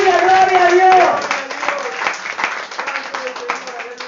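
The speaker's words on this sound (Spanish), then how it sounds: "Denle un aplauso al Señor." Applause from a church congregation during a Spanish-language sermon, dense clapping mixed with a voice speaking over it at first, then tapering into scattered claps under continued talk.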